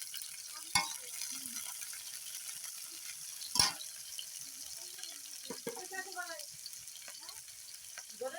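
Chopped taro stolons (loti) in a pan in a village kitchen give a soft sizzle with scattered stirring clicks and scrapes, faint and intermittent rather than a strong fry, and brief voices can be heard.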